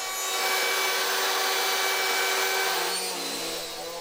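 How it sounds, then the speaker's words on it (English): Sanding dried glued joints flush on wooden shelf brackets gives a steady, close, abrasive whirring hiss that holds for several seconds before easing slightly at the end. "After the glue has dried, I sanded the joints flush with the surface"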